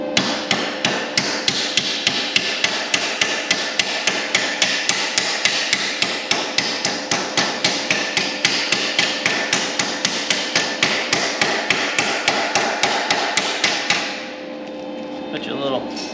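Rapid, steady hammer blows on sheet metal at a shrinker and stretcher while repairing a car body curve, struck in a fast even rhythm close by for about fourteen seconds before stopping.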